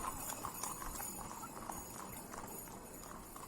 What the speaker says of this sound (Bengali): ছক্কা মিয়া চাবুক নেড়ে ঘোড়াটাকে খুঁচিয়ে দিয়ে বলল